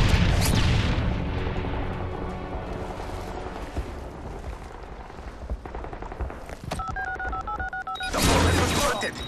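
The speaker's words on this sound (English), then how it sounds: "The bomb has been planted." A bomb being planted in a search-and-destroy video game match, heard as a run of rising electronic beeps followed by a loud burst, over rumbling game sound and a voiced announcement.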